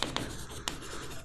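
Chalk or marker strokes on a board as a diagram is drawn: a few short, crisp scratches spaced apart, quiet and close.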